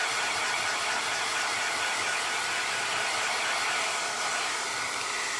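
A hair dryer blows on the second paint layer of a three-color floral artwork, giving a loud, steady whooshing roar that runs unbroken from start to finish with no voices.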